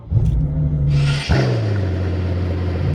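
A Mercedes-AMG engine cranks and fires up loudly at close range, a brief starter whirr followed by a sharp rev flare, then settling into a deep, steady rumbling idle.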